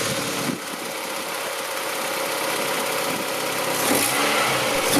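A Mazda Miata fitted with an eBay cold air intake runs at a loud, steady idle, close up, with a slight swell in engine noise near the end and no talking.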